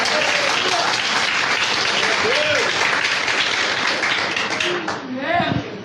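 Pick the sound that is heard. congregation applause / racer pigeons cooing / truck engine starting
congregation applause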